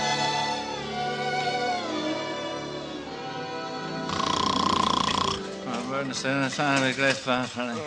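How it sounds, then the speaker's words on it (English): A man snores loudly in an old radio comedy drama, long rasping breaths with a sharp snort in the middle, then other voices and music-like tones follow, with no clear break from the snoring. "Can't you stop that snoring?"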